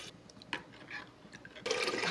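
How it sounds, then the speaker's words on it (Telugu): Black-eyed pea cooking water is poured into a pan of fried tomatoes and dried chillies for rasam, a faint trickle that swells into a louder rushing splash near the end, with no voices. "ఇందులో అలచందల వాటర్ వేసుకోవాలి"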